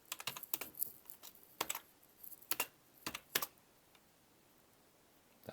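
Fingers tapping a computer keyboard in short bursts of quick, close, light keystrokes with brief pauses between runs, and no talking.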